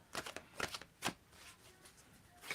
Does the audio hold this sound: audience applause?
no